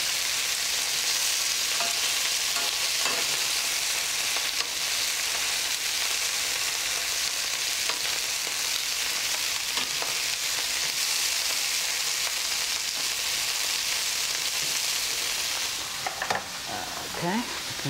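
Meat pieces sizzle steadily in a frying pan for an Italian-American dish, a loud, dense, continuous crackle that holds throughout, with a few brief clinks of handling near the end.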